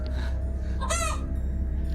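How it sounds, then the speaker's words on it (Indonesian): A chicken gives one loud, brief squawking call in the middle, rising clear above a steady low rumble of background noise, with no voices. "Lu denger kan? Suara ayam."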